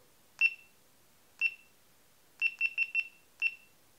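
A GoPro action camera set to a 3-second photo timer gives high, clean electronic beeps: single beeps about a second apart, then a rapid run of four, then one final beep, close and clear in otherwise quiet surroundings.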